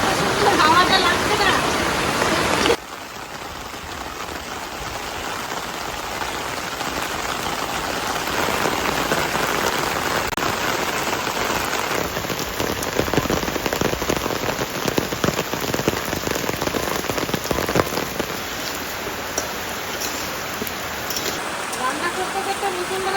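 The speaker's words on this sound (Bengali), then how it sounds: "বৃষ্টি নেমে গেছে" Heavy downpour during a storm produces a loud, continuous roar of rain on surfaces, steady throughout after an abrupt shift early on, with no talk over it.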